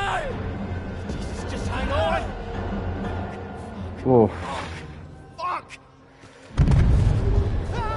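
A blast in the video game Still Wakes the Deep, set at sea: a few short thuds under talk, then a loud booming burst near the end that rolls into a low rumble.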